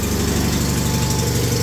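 John Deere 318 lawn tractor engine idling just after starting, a loud, steady close-up rumble with even pulsing throb.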